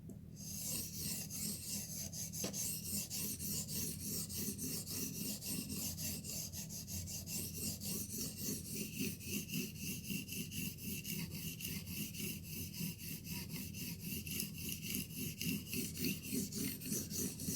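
A steel blade worked back and forth on a sharpening stone to raise a burr, giving a steady, close rasping scrape that repeats in even strokes throughout, with no voices.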